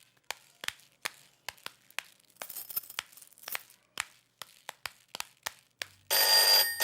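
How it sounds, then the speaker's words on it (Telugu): A telephone in a Telugu film scene from Nee Prematho rings over and over in sharp, evenly spaced bursts, ending in a sudden loud burst of noise. "ఏంట్రా ఫోన్ రింగ్ అవుతూనే ఉంది?"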